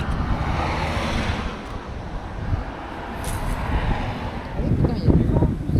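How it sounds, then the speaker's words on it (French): Wind blows steadily across an open outdoor spot near water, a broad rumbling rush that swells louder toward the end, with faint voices in the background. "il y a du vent en plus"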